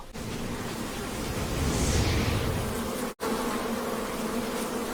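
A dense, steady buzzing of many bees fills the air, loud and close, continuing without pause apart from a brief cut.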